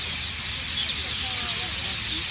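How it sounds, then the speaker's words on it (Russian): Many birds sit in park trees at evening, filling the air with a dense, continuous chorus of overlapping chirps and calls. The chorus is steady and moderately loud, with no single call standing out. "Только послушайте, какой здесь птичий рай."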